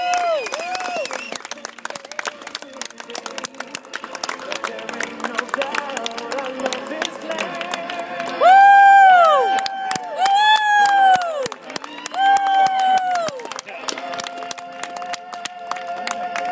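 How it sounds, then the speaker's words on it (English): Crowd applause and cheering at an Oktoberfest celebration honoring Oakfield Farm, steady clapping throughout with loud whistles and shouts rising in bursts toward the middle, voices mixed in. "More round of applause for Oakfield Farm as they celebrate America with a ride through history."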